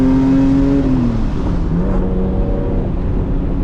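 A manual Lexus SC300 engine revs loudly and continuously, its pitch rising then easing and falling, with steady road and cabin drone beneath throughout.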